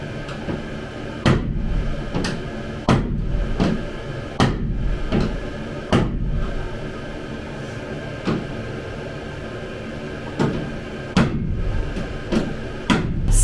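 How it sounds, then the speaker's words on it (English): Sharp metallic hammer strikes on a small punch dimple the sheet-metal wall of a Sprinter van to outline window cutouts, about a dozen loud, ringing hits at irregular intervals with quiet gaps between. "I will start the punching process to outline the windows with a little punch and a hammer"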